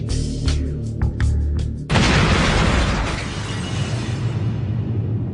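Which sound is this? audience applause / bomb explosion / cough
bomb explosion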